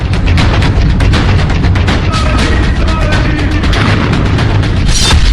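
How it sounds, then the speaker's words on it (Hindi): A loud, sustained blast roars throughout, deep rumbling mixed with crackling bursts, close and overwhelming. "अंजू एक बार फिर इस धमाके को ध्यान से देख ले"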